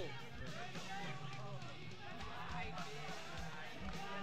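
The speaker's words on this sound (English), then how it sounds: "finally we can hear a lot of noise from the crowd" A crowd roars steadily at a flyweight bout in a fight event, a dense, continuous wash of noise with a commentator talking over it throughout.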